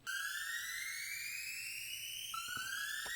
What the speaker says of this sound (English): We have this saw riser, which is very simple. It's just a SERUM patch with a saw going up in pitch.